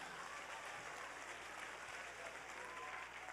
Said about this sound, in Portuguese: Agora você pode aplaudir, gente.